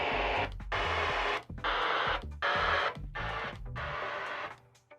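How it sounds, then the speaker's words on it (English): Broadband white-noise calibration bursts from an Onkyo TX-RZ70 AV receiver's level setup, sounding as four or five loud, steady hiss blocks separated by brief gaps as the signal steps between channels. "the level calibration setting, which in this, it'll just play white noise based off the channel"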